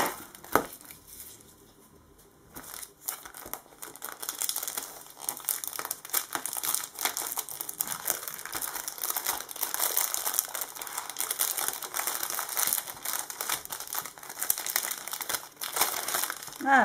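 Paper wrapping on a small gift package is cut with small scissors and torn open, a near, continuous crinkling and rustling with sharp snips, running throughout after a brief quiet start.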